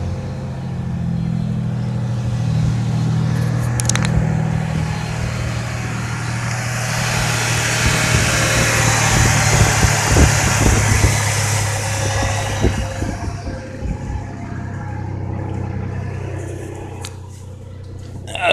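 A car engine idles steadily after a week on Marvel Mystery Oil at 104 miles in, running as a low continuous hum with a faint vibration, while a voice talks over it.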